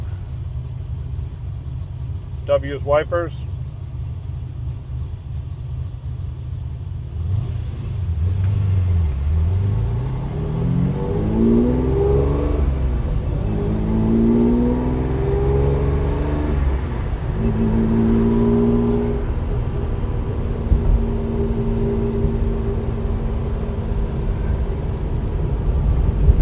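A 1965 Ferrari 330 GT 2+2 engine cranks and catches after a push-button start, then revs up and down repeatedly with a low rumbling idle throughout; someone speaks briefly at the start.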